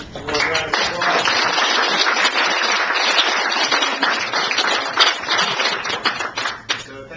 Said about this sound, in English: So give Dave a nice warm round of applause.